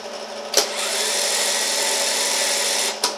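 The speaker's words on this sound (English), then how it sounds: "That's the wire feeder." A scrapped MIG welder being restored runs its wire feeder motor in a steady, loud, close whine for about two and a half seconds, with a click as it starts and another as it stops.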